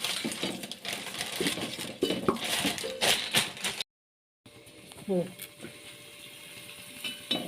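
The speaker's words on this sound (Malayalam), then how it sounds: "കുറച്ച് മല്ലിപ്പൊടി ഇട്ട് നന്നായിട്ട് ഇളക്കി കൊടുക്കണം" Stirring coriander powder into a sizzling pan of meat masala: a continuous sizzle with scraping and clinking of a spoon against the pan, someone talking over it, and a brief silent gap midway.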